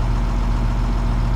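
A tractor engine runs steadily during a soybean harvest, pulling a grain cart with an auger, a loud, constant low rumble with no change in pitch and no voices.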